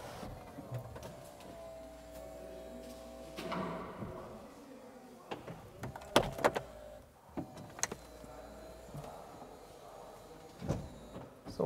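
The electric convertible roof of a Lamborghini Huracán Spyder LP 610-4 operates with a quiet whirring motor hum, followed by several sharp clicks and clunks as panels latch, heard close in a quiet setting.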